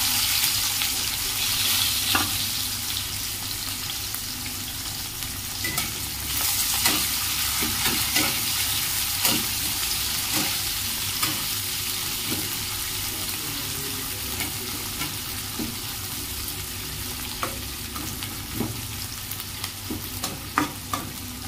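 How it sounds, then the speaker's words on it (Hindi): Sliced onions fry in a pan over a medium flame, giving a steady close sizzle with occasional stirring clicks and scrapes throughout, no voices. "एबे हमें कटा होइतिबा दुईटी पियाज को पकाई की मीडियम फ्लेम रे भलो भाबरे"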